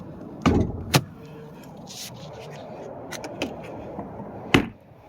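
The hood of a Mercedes-AMG GLA45 is released and shut: two sharp metallic clunks close together, then a quiet pause with light rustling, and a final heavy thud as it closes.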